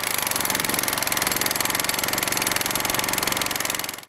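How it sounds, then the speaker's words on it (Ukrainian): A rotary hammer chips the edges of cut-out asphalt patches at a bus stop during pothole road repair, giving a loud, close, steady rapid hammering that runs unbroken throughout with no talking. "відбиваючи перфоратором."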